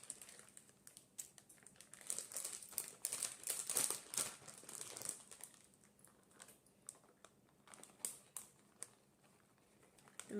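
Scissors snip and crinkle through a plastic bag of frozen shredded mozzarella, giving close, irregular crackling rustles that peak midway and then thin into sparse clicks and crinkles.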